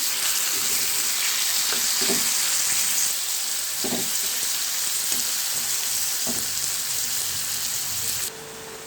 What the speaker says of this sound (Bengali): দেখো, মেথি শাকগুলো আমি দিয়ে দিয়েছি, মজে গেছে।